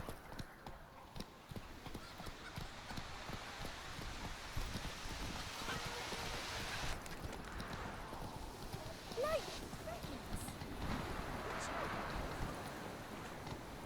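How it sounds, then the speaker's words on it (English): Horse hooves clip-clop steadily in The Witcher 3 over continuous outdoor ambience and rustling, a moderately close, ongoing gait with brief voice-like sounds at moments. "Whoa there, Roach."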